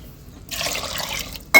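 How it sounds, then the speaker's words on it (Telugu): Water is poured from a glass onto soaked lentils in a home kitchen, a brief close splashing fill lasting about a second before a sharp clink at the end. "రెండు సార్లు నీళ్లు పోసుకుందాం"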